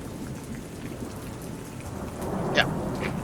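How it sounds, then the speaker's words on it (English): Steady rain falls with low rumbling thunder as a storm settles in over a flight deck, a continuous wash of drops broken near the end by a brief sharper crackle. "As the storm kind of settles in"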